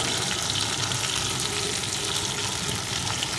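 Potatoes sizzle and crackle steadily as they are stirred and fried in a pan, a continuous hiss close by with no voices.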